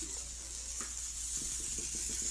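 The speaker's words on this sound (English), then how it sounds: "If you can hear that sizzling and grizzling in there." A vape coil sizzles as leftover water burns off, a soft hissing crackle with a few faint ticks, quiet and close with no talking.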